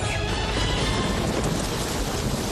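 Thunder and rain at sea, a loud, dense, steady rumble and hiss filling the whole moment with no break and no voices.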